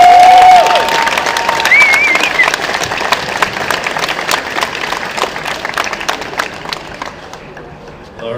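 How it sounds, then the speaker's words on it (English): A crowd at an awards ceremony applauds the event staff, loud clapping with a few whoops at first that gradually thins to scattered claps and fades out. "one more round of applause for the staff"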